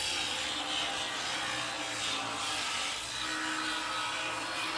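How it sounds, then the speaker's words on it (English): A heavy 9-inch angle grinder cuts through a 500 mm steel pipe on a work site, giving a steady, loud abrasive grinding rasp that holds on without a break. "Notice how I do not force the grinder."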